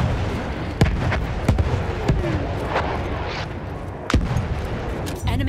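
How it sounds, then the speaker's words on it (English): Artillery barrage explosions in the World War I shooter Battlefield 1, heard as scattered sharp blasts and distant booms over a constant rumbling battlefield din, with several louder impacts standing out. "The enemies are being halted by our artillery barrage."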